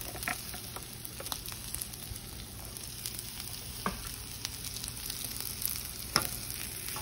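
Garlic frying in a pan alongside steak, giving a steady, close sizzle and crackle throughout with occasional small pops and stirring sounds; no one speaks.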